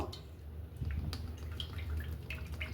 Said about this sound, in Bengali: প্রথমে আমি তেলটা দিয়ে দিচ্ছি।